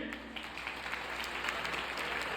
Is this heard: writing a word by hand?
no